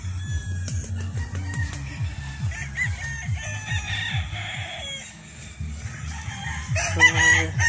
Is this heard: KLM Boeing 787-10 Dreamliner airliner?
no